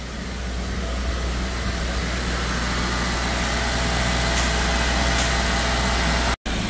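Suzuki Wagon R engine fitted with a double blackcore, held at about 2000 rpm during carbon cleaning, gives a steady, loud, unbroken hum that cuts off abruptly near the end.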